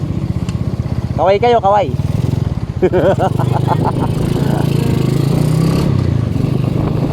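Honda-style Raider 150 motorcycle engine fitted with a new Podium pipe, running loud and close in a steady idle throughout, with a person briefly talking over it.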